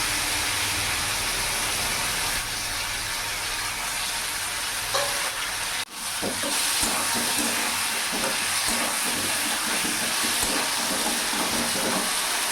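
Ginger, cumin and green chili paste sizzles steadily in hot oil over medium heat, a dense, continuous frying hiss with scattered crackles and stirring scrapes, close and loud throughout.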